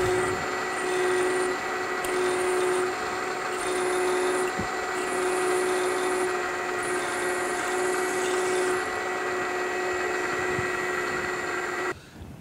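A power drill bores into a metal shaft held in a vise, running steadily for several seconds with a high whine and grinding bite, then cuts off near the end.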